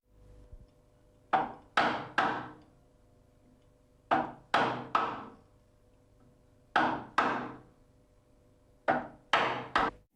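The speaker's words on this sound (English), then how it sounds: "Chop out to the depth as marked and give the hinge a try." Sharp wooden chopping strikes of a chisel cutting a hinge recess in door timber, in four close groups of three knocks each, alone and fairly loud.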